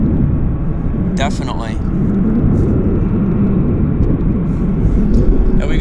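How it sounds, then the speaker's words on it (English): Air Canada Boeing 737 on approach at Vancouver's wet runway, a steady loud engine roar and rumble sustained throughout, with a brief spoken word partway through. "Air Canada Flight 203 from Calgary is on approach. It's a 737."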